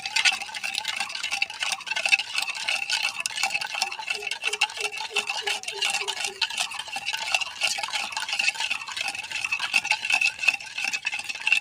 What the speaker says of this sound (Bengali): চিনি আর বিট লবণ দিয়ে দইটা আরও সুন্দর করে ফাটাবো